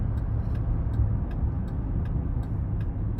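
A 2023 Chevrolet Traverse LT with a 3.6-litre V6 and nine-speed automatic hums steadily from inside the cabin while driving, with faint regular ticks above the low engine and road drone.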